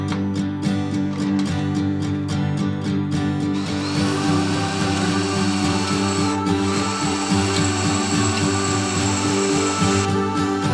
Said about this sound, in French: On perce le montant en forêt de 6.